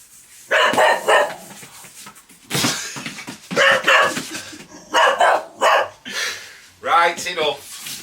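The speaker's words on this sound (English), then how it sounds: "Stop barking now." A dog barks in repeated loud bursts at close range, mixed with a person talking to it.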